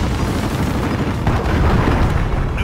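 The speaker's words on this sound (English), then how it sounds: "Allied cruise missile away." A cruise missile strike in the Call of Duty Modern Warfare video game produces a loud, rolling explosion. A dense, rumbling roar persists throughout, swelling slightly partway through amid scattered gunfire.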